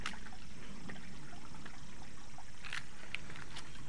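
A small forest waterfall trickles faintly in summer at dusk, giving a low, steady wash of water with a few brief brighter splashes and no voices.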